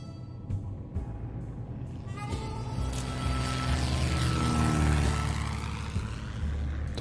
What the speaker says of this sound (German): Das war das Flugzeug.